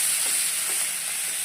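Chopped onion fries in hot oil with nigella seeds, a steady hissing sizzle heard close up, continuous and alone, with no voices.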